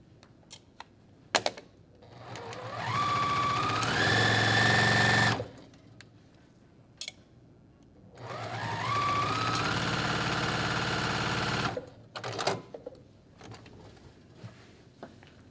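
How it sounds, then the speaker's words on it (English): A sewing machine stitches a quilt block seam in two runs of a few seconds each, its motor rising to a steady loud hum, with scattered clicks and handling noises before, between and after. "I'm gonna use a quarter inch seam, and I'm just gonna sew all the way down."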